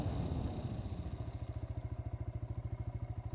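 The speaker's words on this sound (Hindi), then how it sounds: "और मोटरसाइकिल एकदम फुल कॉन्फिडेंस से रुक गई है" A TVS Raider 125 motorcycle with ABS brakes hard from about 60, its engine note dropping into a rapid rhythmic pulsing thump as it slows, close and loud.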